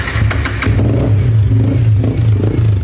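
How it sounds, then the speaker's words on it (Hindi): Yamaha R15 motorcycle engine started after its battery was recharged, a loud close steady idle with a low throbbing rumble and light mechanical clatter throughout. "सरप्राइजिंगली बाइक स्टार्ट भी हो जाती है"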